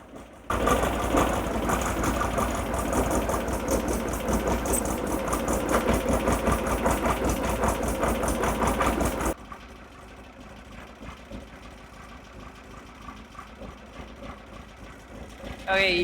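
Car engine with synchronized Weber IDF carburetors idling steadily with an even, rapid mechanical rhythm, loud and close at first, then dropping to a quieter, smoother idle for the rest.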